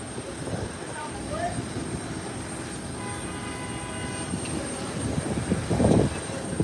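An American Airlines jet is pushed back at Howard Hamilton International Airport, heard as a steady, distant low rumble under a person talking.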